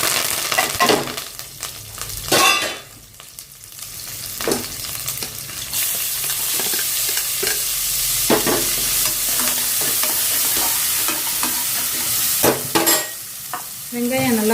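Onions and curry leaves frying in oil in a pan for mutton kola urundai kulambu, a steady close sizzle broken by repeated scraping stirs and occasional clinks of the spoon, with no talk.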